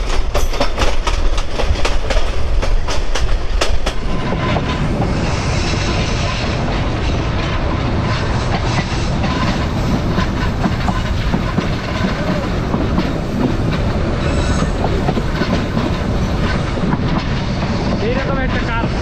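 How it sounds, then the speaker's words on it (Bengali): The Lalmoni Express train runs on the rails toward Dhaka via the Jamuna rail bridge, a loud, close rumble with rapid rhythmic clicking early on, then continuous heavy wheel-and-track roar with faint squeals. "আজকে প্রথমবারের মতো এই লালমনির এক্সপ্রেস যমুনা রেল সেতু হয়ে যাবে ঢাকায়।"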